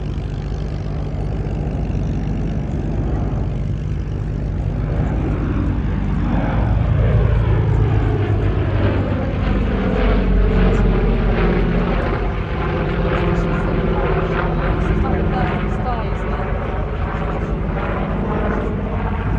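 A Douglas DC-6B four-engine propeller airliner makes a flyby at Duxford. Its piston engines and propellers give a steady, loud, throbbing drone that shifts in pitch as it passes, with a voice talking faintly under it.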